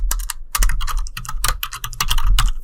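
Rapid computer-keyboard typing while HTML code is entered, a dense close run of clicky keystrokes with brief pauses, fairly loud and with no voice over it.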